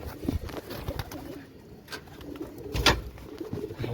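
Pigeons coo in soft, low, rolling calls from close by, with a few brief rustles and flaps between them and no speech.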